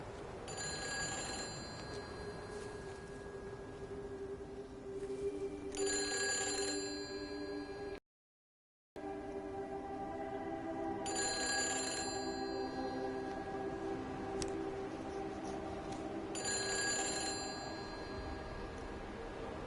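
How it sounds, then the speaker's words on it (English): An old-fashioned telephone bell rings in repeated pairs of bursts in the video game Everybody's Gone to the Rapture, moderately faint over a quiet ambient background, with no talking. "Hear a phone."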